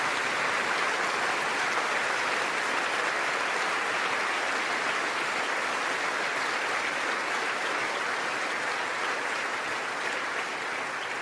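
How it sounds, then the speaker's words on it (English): An audience claps continuously in a dense, even roar of many hands, steady in level throughout with no voices standing out. "all these people basically clapping"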